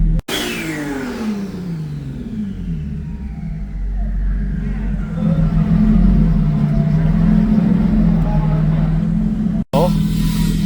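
A tuned car engine on a dyno revs hard and climbs steadily in pitch, roaring under load for several seconds, then settles into a loud, droning rumble.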